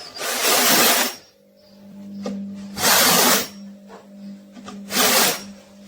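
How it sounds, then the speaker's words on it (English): Three loud bursts of a power drill with a countersink bit spinning up, each lasting about a second, with quieter pauses between them, countersinking holes for a plaster ceiling rose. "swapping the drill bit for a countersink bit. Countersink the holes."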